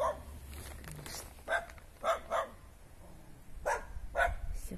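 Dogs bark outdoors in a few short, spaced barks, some doubled, at moderate distance over background noise and faint footsteps.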